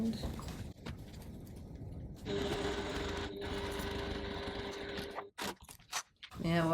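Sewing machine stitching the base seam of a crossbody bag with a 2.4 stitch length, a steady close mechanical whir running for about three seconds after brief handling noises, then stopping amid a few soft clatters.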